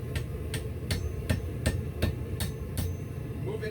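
Hammer forging a steel S hook on an anvil, with about ten sharp, evenly spaced ringing strikes over a steady low forge roar, close and fairly loud.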